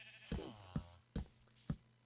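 Sheep in the Minecraft video game bleat four times in short, evenly spaced calls, faint and close together, heard at a wool shop with no voices over them.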